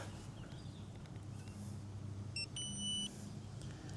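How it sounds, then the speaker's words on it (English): A few short electronic beeps ring out from a Milwaukee electrofusion pipe machine over a low idling engine rumble, with a longer tone following a quick pair. "Oh, we heard the beeps."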